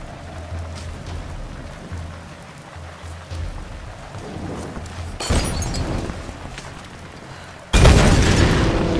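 Loud explosions go off in the Tomb Raider video game during an escape down a hillside, with a heavy boom midway and a second sharp, crashing blast near the end over steady rumbling background noise.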